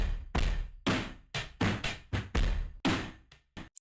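A dry drum-break sample with punchy kick and snare hits in a quick rock groove and no added effects, sounding close and loud on its own.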